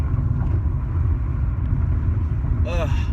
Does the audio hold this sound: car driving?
yes